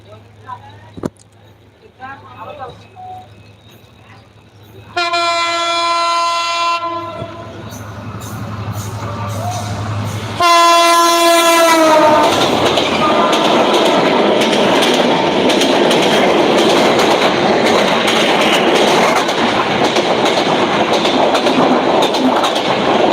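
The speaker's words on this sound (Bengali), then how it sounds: "এই পাশে ট্রেন আসতেছে দেখুন দেখুন ট্রেন আসতেছে" A train approaches a rail crossing on a road toward a cattle market, sounding two loud, sustained horn blasts before its heavy rolling rumble and wheel clatter pass close by and fill the rest of the clip, with a voice briefly audible early on.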